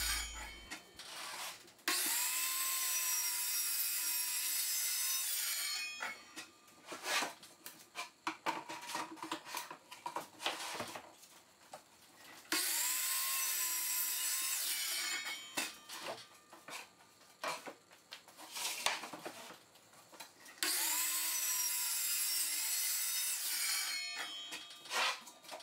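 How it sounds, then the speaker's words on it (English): A miter saw cuts plywood for a folding table. Three long cutting passes each ramp up to a loud, bright whine, with quieter handling and shuffling of the wood between cuts. "so I decided to use my miter saw"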